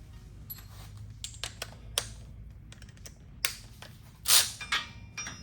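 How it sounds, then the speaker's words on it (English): Small 8 mm bolts being removed from the dust shield on a 2015-2017 Ford F-150 4x4 hub, sparse metallic clicks and ratchet ticks up close, with a louder rattle near the end and no talk. "we'll go ahead and remove these 3 bolts here on this dust shield"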